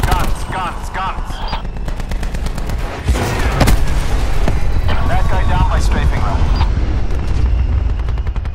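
Heavy gunship cannon fire strafing targets in Black Ops 4, with rapid bursts of close, loud gunfire and booming impacts running throughout while game radio voices talk over it.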